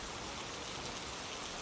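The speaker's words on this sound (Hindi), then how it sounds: "बारिश बहुत जोर से हो रही थी" Heavy rain falls in a dense, even hiss of countless drops striking surfaces, continuous and unbroken, quiet overall with no voices.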